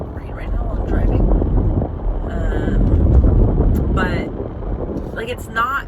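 A steady, loud roar of road and wind noise inside a moving car, filling the whole stretch, with a person talking over it throughout.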